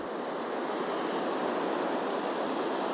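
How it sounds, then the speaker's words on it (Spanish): Ocean waves wash in a steady, soft broadband hiss that stays even throughout, with no voices. "Escuchad el sonido de este océano"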